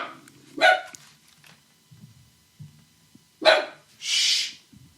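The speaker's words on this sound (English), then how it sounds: "I don't know what he's barking at." A dog barks indoors: a sharp bark early, a second loud bark later, and a breathy huff near the end, close and clear between quiet stretches, with no voices.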